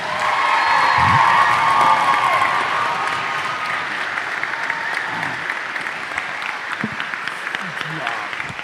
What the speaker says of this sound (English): let's go ahead and give these guys one more big round of applause